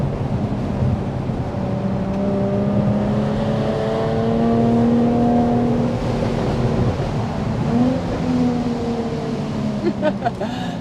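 Jaguar F-Type sports car from 2014 with its engine revving and droning steadily, rising in pitch toward the end, heard up close over continuous road and wind noise.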